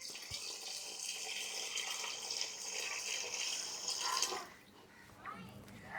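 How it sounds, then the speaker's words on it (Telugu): Water poured steadily into a pot for making bellam pongali, a continuous soft splashing stream that stops near the end, with faint talk in the background. "ఇప్పుడు తగినన్ని నీళ్లు పోసుకుందామండి"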